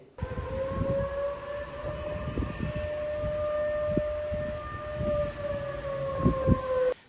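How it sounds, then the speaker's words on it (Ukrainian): A wailing air raid siren in Belgorod holds a long steady tone with harmonics, sounding continuously at moderate distance over low rumbling background noise. "повітряна тривога прозвучала вже в Білгороді"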